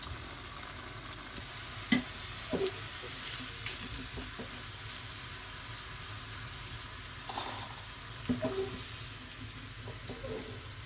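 Ivy gourd chips frying in oil over a medium-to-high flame give a steady, fairly quiet hissing sizzle, with occasional soft clinks and scrapes as they are stirred now and then; no voices.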